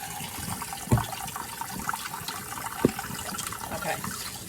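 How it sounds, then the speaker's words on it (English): Tap water runs steadily into a kitchen sink as raw chicken is rinsed under it, with two sharper splashes or knocks standing out against the continuous hiss. "Rinse it off real good."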